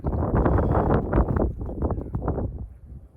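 Gusty wind buffets an outdoor seating spot, loud and close with rough low rumbling surges that rise and fall throughout, no voices.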